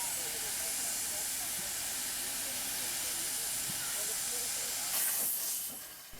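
A steam locomotive at Wackelstein station hisses loudly and steadily throughout. The hiss swells briefly near the end and then eases off slightly.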